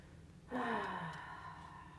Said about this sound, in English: you're going to take 4 big breaths into your arms, into your fingers